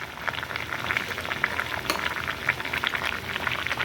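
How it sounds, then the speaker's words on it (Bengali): Spice water boils steadily in a pot for a no-oil meat curry, making a continuous close bubbling and gurgling with small pops throughout. "মশলা সুন্দরভাবে ফুটছে"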